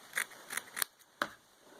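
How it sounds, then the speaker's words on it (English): Small scissors snipping through the backing of a fur fabric for a craft gnome, four crisp close snips in quick succession followed by a pause, with no talking. "I use smaller scissors and I just cut the backing"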